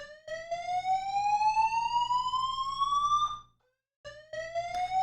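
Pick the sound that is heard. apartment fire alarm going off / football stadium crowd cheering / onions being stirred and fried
apartment fire alarm going off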